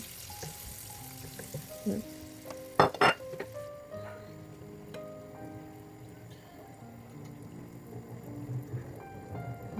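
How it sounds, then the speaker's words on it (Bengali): Pan of tengra fish masala frying, with sharp clinks of a utensil against the pan followed by bursts of sizzling as a little water goes in, then a quieter steady sizzle. "এখন দিয়ে দিব সামান্য পানি"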